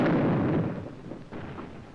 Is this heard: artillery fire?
yes